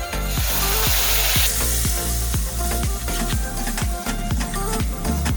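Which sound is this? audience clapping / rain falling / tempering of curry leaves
tempering of curry leaves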